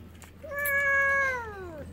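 A cat gives one long, clear, drawn-out meow that rises slightly and then falls away, close by and alone, with no voices over it.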